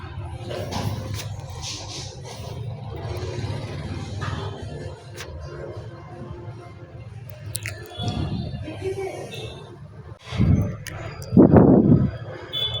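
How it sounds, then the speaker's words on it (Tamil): Millet and sorghum idli batter is poured into an idli mould, giving soft wet squishing and dripping sounds with a few louder sloppy plops near the end, close and without talk. "இப்போ வந்து இட்லி ஊற்றிடலாம்"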